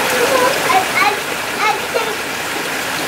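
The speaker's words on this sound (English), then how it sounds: "They've got a waterfall over there." A waterfall splashes and rushes beside a hotel swimming pool, a steady bright hiss of falling water, while children's voices chatter over it at moderate distance.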